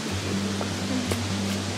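A constant broadband rush of falling water from Kumpa Waterfall in Bali fills the clip, steady and enveloping, with a low hum underneath.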